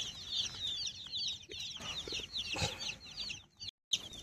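A flock of broiler chickens on a farm clucks and chatters quietly in a steady stream of short calls, with a few soft rustles in the background.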